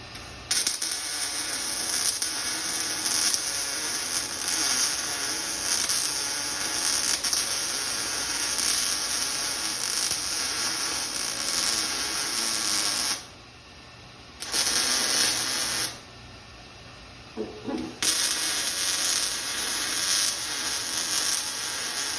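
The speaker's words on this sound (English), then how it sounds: "now we're going to weld this set together" Metal parts of a fence stretcher are welded, making a steady loud crackling hiss that holds for long stretches. It stops twice for a few seconds and then resumes, with no talking.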